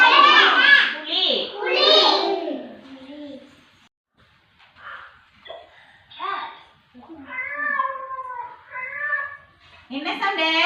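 Drawn-out meowing calls, high and wavering, alternating with quieter cries; the sounds seem voiced by a child imitating a cat, close up.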